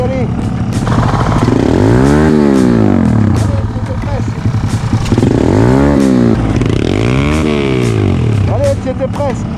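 A YCF 50 pit bike engine revs hard in repeated rising and falling sweeps, loud and close, while people shout encouragement over it.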